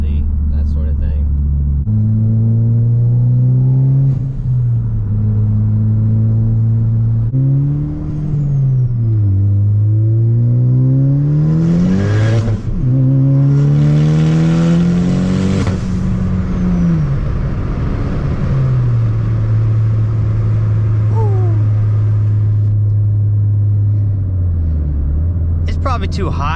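A modified Ford Focus ST with about 12,000 miles, heard from inside while driving, its engine note repeatedly rising under acceleration, dropping at gear changes, then settling into a steady cruising drone.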